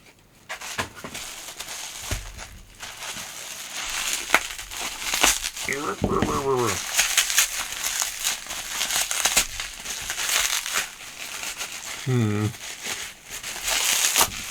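An AliExpress mail package being torn open: crinkling and ripping of plastic packaging, loud and close, running throughout while someone speaks briefly.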